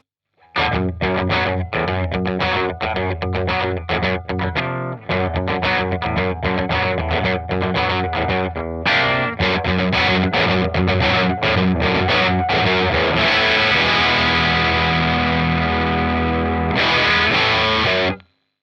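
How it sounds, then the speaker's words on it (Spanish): Distorted electric guitar riffing through a Dr. Robert overdrive pedal, choppy rhythmic chords then longer sustained notes, loud and close, no talking. "Esto es el sonido base con el pedal encendido."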